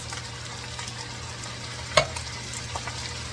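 Tomatoes are tipped into a taco casserole mixture of refried beans in a pan, a soft stirring and sizzling bed with one sharp clink partway through, no voices.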